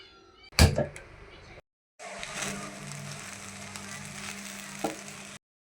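Sabudana cooking in a pan on a gas stove, with a steady close sizzle lasting several seconds, preceded by a sharp knock and a short silence.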